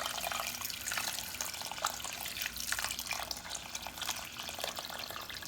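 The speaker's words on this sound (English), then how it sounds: "Then we're going to just cover with water." Water pours steadily over pigs feet in a cooking pot, a continuous broad rushing splash that stays even and fairly close for the whole stretch, with no talking.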